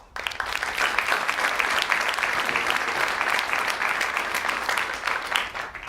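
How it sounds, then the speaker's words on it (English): Sustained audience applause for a panel at an asteroid initiative industry day, dense and steady throughout with no voices over it. "Let's give them a round of applause."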